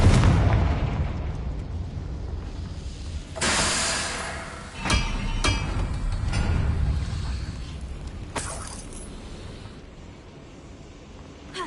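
A Confringo fire spell explodes in a video game with a loud opening blast, then a string of booming bursts and sharp cracks, followed by a fading, rumbling tail.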